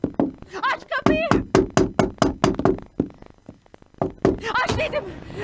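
Rapid, heavy pounding knocks on a door in a Turkish TV drama scene: a steady run of about a dozen hard thuds, close and loud, mixed with a shouting voice throughout.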